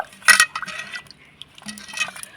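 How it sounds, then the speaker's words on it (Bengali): Peeled potatoes for homemade chips are rubbed and rinsed by hand in a bowl of water, giving close, short splashing and sloshing sounds with a brief louder splash near the start. "এবার জল দিয়ে ভালো করে কচলে একটু ধুয়ে নেব।"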